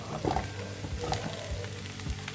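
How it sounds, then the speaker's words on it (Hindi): Raw mango chutney being stirred and roasted in a pan, a soft continuous sizzle with a few scraping stir sounds, close and moderately loud with no talking. "इसे चलाते हुए 2 मिनट अच्छे से भूंज लेंगे।"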